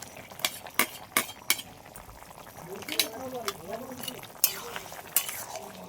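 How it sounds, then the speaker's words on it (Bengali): Fried crab goes into a pot of boiling potatoes and greens: a few sharp spoon clinks against the pot over a soft bubbling simmer, with a faint voice murmuring in the middle. "এবার আমি এই ভেজে রাখা কাঁকড়া এখান থেকে হাফ দিয়ে দেবো, পুরোটাই দেবো না।"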